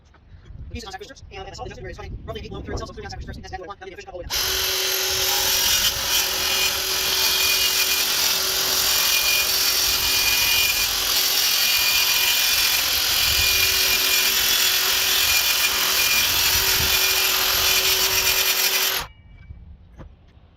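A DeWalt track saw makes a long taper cut along pilaster trim on a jobsite, its loud, steady whine running unbroken for about fifteen seconds after some brief handling noises, then stopping abruptly.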